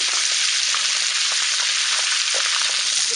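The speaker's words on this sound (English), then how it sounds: "let the butter melt down. Then sprinkle some thyme in there." Butter melts over high heat in a wok with thyme, producing a continuous close, bright hiss of frying with faint crackles throughout.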